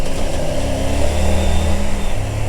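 A rally car's engine revving hard, loud, continuous and close, the pitch shifting as the revs climb and settle, with no talking over it.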